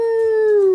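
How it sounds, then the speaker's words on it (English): A dog gives a single sustained, wavering howl, loud and close, with no talking over it. "Quincy, can you howl?"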